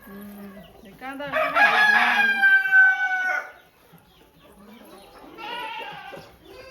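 A rooster crows loudly and close on a farm, one long drawn-out call, followed by a goat bleating and softer clucking.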